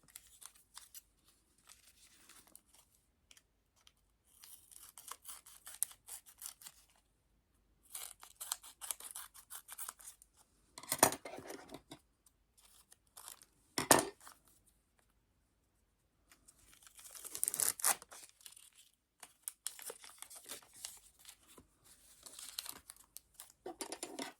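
Scissors snip through Panini Disney sticker cards in bursts of close, crisp cutting separated by pauses, with some crinkling of paper between cuts and no talking.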